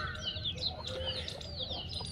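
Aseel rooster and hens on a free-range poultry farm, soft scattered clucks and a few higher chirps at low level, heard fairly close.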